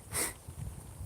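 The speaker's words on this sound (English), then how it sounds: "Oh, sniffles, you guys." A single short, faint sniffle through a congested nose, person with a sinus infection, heard close by with a soft breathy hiss and no talk.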